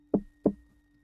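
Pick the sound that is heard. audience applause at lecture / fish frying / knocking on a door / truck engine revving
knocking on a door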